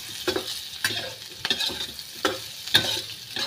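Vegetables salted and tossed with turmeric frying in a pan for chilli chicken, stirred with repeated scraping strokes over a steady close sizzle, about five distinct stirs with no talking.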